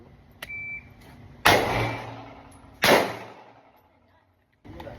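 A Saricam Arms S-19 pistol firing fresh ammunition outdoors: two sharp, loud shots a little over a second apart, each ringing off in a short echo, with a quieter pop at the end.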